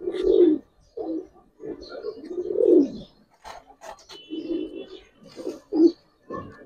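Giribaz pigeons cooing close by, a series of soft, low, rolling coos in uneven bursts with short quiet gaps, faint chirps and a brief flutter between them; no speech.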